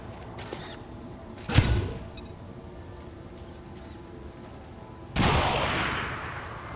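Bombs dropping in XCOM 2 (Long War 2) during a raid on an Advent depot: a sharp blast near the start, then a second, heavier boom that rumbles and fades.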